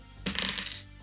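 A handful of small plastic Z keys ripped from a keyboard clatter onto a counter, a brief bright rattle of several quick light taps that settles within a second, close and clear with no voices.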